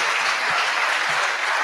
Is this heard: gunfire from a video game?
no